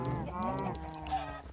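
Cows in the Minecraft video game moo in a drawn-out, honking low call, heard close and clear at a moderate level.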